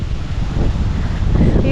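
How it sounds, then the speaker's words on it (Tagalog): Strong wind buffets the microphone outdoors in a constant, loud broadband roar, with a voice faintly present beneath it. "ang lakas ng hangin."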